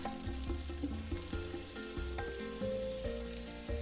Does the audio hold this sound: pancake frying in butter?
yes